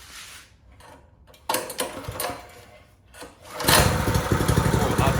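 A brand-new pull-start 212cc Power Fist engine on a Mini Baja minibike: a few scraping pulls and clatters, then the motor catches and runs steadily, loud and close, for the last second and a half.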